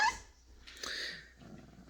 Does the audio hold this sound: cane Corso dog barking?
yes